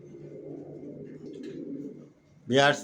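Racer pigeons kept for sale coo in low, soft, rolling bursts close by, with a faint chirp in the middle. A sharp, louder call cuts in at the very end.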